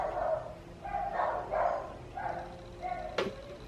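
Dogs barking somewhere away from the microphone, a run of faint, spaced yaps and barks with a sharp click near the end.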